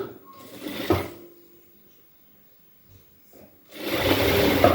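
A sewing machine runs in two short bursts while stitching a folded half-inch blouse hem, close and clattering with a quiet pause between runs.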